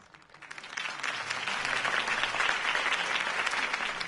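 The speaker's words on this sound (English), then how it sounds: "If only Mr. Wayne, my campaign's largest backer, could have heard that applause" Crowd applause at a political campaign rally in the Batman Telltale Series video game, swelling from a quiet start into sustained, dense clapping that holds steady without speech.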